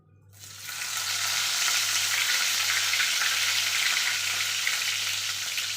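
Curry leaves dropped into hot oil for chicken sukka, bursting into a loud, dense sizzle that starts abruptly and holds steady and close, with no talking.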